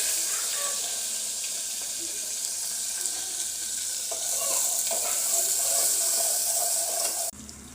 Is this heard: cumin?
yes